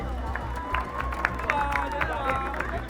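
A studio audience and contestants clap together on a Burmese celebrity farming game show, a dense burst of applause with cheers and chatter mixed through it, steady from start to finish.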